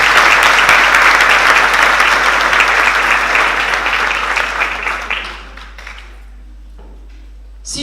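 An audience applauds Wafa Idrissi at a conference master class, a loud, full burst of clapping that holds for about five seconds, then thins out and fades to near silence.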